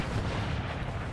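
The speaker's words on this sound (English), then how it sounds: "Cannons exploding all over." Cannon fire and shell explosions in a Napoleonic-era multiplayer battle in Napoleon: Total War 3 form a dense, continuous, loud rumble of booms blending into one roar, with no voices.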